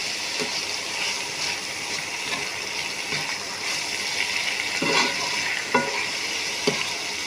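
Shrimp frying in a pan of freshly fried spice paste and oil, a steady close sizzle with a few sharper crackles and stirring knocks toward the end, no voices.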